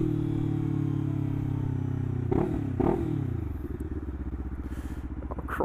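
A Lexmoto LXR380 motorcycle with its exhaust baffle removed revs through the mid-range, a loud, steady engine drone broken by two sharp blips, then settling into a rapid pulsing burble.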